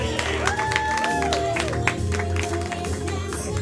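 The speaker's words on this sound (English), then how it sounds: "Yeah, clap for them." A crowd claps for VIPs called up at a live event, the clapping mixed with music tones and a low hum, moderately loud and continuous.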